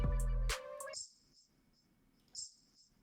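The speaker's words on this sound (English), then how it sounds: "And the shaker." A hip-hop shaker sample plays as soft, hissy high rattles in a sparse pattern, quiet and airy, following a brief louder burst of other sound at the start.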